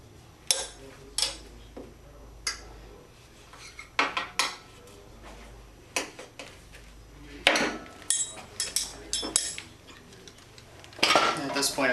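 Metal tire spoons lever a tubed dirt bike tire off its rim on a No-Mar Classic tire changer, giving bursts of sharp metallic clinks and scrapes separated by brief quiet gaps.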